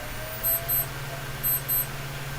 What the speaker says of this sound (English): Oh, that's my 10 o'clock alarm.